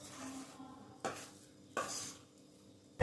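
A spoon mixes warm jackfruit batter with jaggery and milk. A few soft, separate scrapes and taps against the bowl sound close but faint over quiet background noise.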